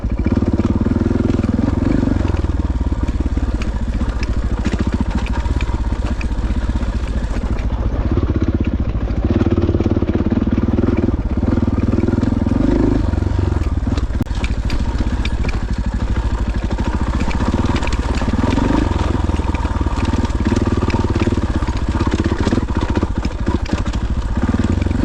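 A 2025 KTM 500 adventure motorcycle rolls downhill in second gear on a mountain trail near Crested Butte, its engine burbling loud and steady right up close with throttle swells and clattering.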